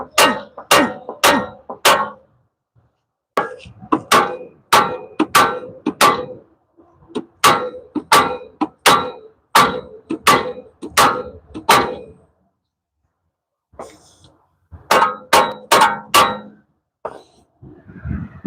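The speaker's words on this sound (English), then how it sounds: "Finna use that big boy hammer." Repeated sharp metallic blows of a big hammer on the front suspension of a 2010 Chevy Malibu ring out in quick bursts of four or five strikes, separated by short pauses, loud and close.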